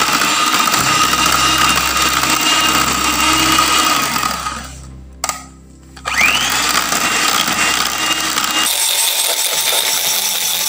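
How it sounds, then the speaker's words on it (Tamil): An electric mixer beats 200 grams of butter with sugar for an almond cake, a loud, close, continuous motor whir and churning that cuts out briefly midway, then resumes and shifts tone toward the end. "எல்லாம் இப்படி ஒன்றா நல்லா எடுத்து பீட் பண்ணுங்கள்."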